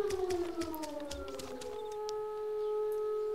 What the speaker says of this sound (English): Can you hear the siren? Yeah, yeah. It's been going off since I got here.